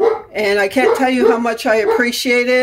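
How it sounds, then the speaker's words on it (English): A dog barks and yips in short, sharp bursts behind someone speaking indoors, the barks fairly close and interrupting her talk throughout. "Sorry about the barking."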